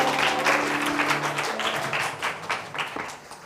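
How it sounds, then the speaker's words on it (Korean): Applause from a church youth service congregation, a moderate patter of hands clapping indoors that thins and turns more scattered toward the end, with no speech over it. "박수 한번 다시 주시고요."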